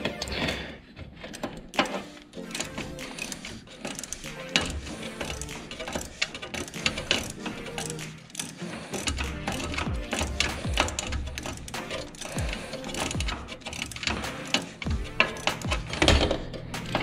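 A ratchet tightens a 12 mm bolt on a Jeep Wrangler steering shaft, giving irregular clicking and metallic clatter up close amid shuffling work noise.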